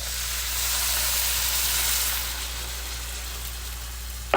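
Chicken broth goes into a hot pan of turmeric rice, setting off a loud, steady sizzle and hiss that swells, then eases slightly, ending with a brief knock.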